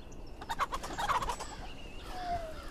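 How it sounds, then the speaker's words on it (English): Chickens in the pixel-art pirate game Pixel Piracy cluck and squawk in a quick burst of calls, followed by a fainter high tone. "Shut up, chickens. No one is impressed with you."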